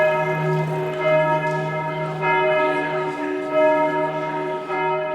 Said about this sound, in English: where I managed to capture the Angelus bell